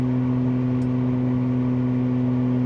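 Steady in-cabin drone of a 1971 Jaguar E-Type Series 2 with its 4.2-litre engine and manual gearbox, cruising at around 2400 rpm and 60 to 70 mph, a constant low engine hum with faint wind hiss and no talking.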